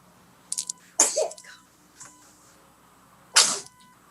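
Two sharp sneezes, one near the one-second mark and another a few seconds later, ring out loud and close, with a faint short burst before the first and a quiet background of room tone.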